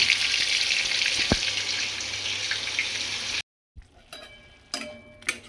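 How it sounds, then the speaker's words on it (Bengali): Food frying in a pan gives a steady broadband sizzle with a brief low thump partway through, then cuts to near silence followed by faint, sparse kitchen clinks and rustles. "চলো ভাজাটা হয়ে যাক"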